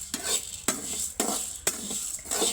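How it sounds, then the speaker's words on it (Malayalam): Broken wheat is stirred as it roasts in a pan: a spatula scrapes in regular strokes about twice a second, with a faint crackle between them and no voices. "ഇത് പൊരിയുന്നുണ്ട് കേട്ടോ."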